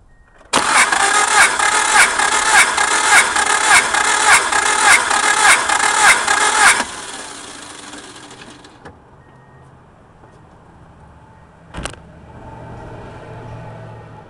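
Subaru engine cranking on the starter during a cylinder compression test, a loud rhythmic whirring churn of about ten even pulses over six seconds, then stopping, followed by quieter clicks and a brief clank.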